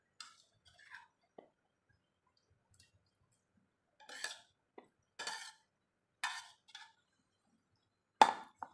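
A pan clinks and clatters while instant noodles cook in milk with sausage and cheese: a handful of sparse, light metallic knocks spaced a second or so apart, quiet and close, with no one talking.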